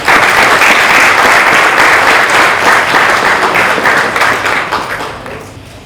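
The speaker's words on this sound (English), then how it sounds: "Please give him a round of applause." A large audience in an IIT Bombay hall breaks into loud, sustained applause for a guest speaker, a thick wash of clapping that stays strong for several seconds before gradually thinning out.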